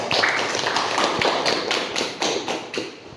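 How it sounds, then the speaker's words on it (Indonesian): Students in a classroom applaud together, a loud, dense burst of hand claps with rhythmic accented pulses, continuing steadily for a few seconds with no talking over it. "Oke, tepuk tangan."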